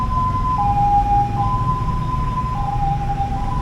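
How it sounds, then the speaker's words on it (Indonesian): A two-tone ambulance siren wails continuously, loud and fairly close, alternating between high and low pitches over steady traffic rumble. "ambulan lagi teman-teman."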